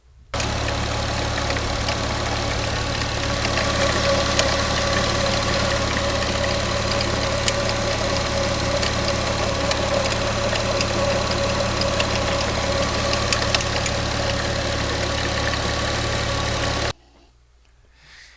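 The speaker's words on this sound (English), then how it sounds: "Sounds like somebody's shaking a can of spray paint in there or something, right?" An air-cooled car engine idles steadily for about sixteen seconds, close and continuous, with a dense metallic rattle running through the hum, then stops abruptly.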